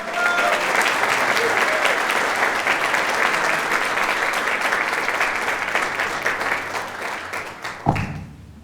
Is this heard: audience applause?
yes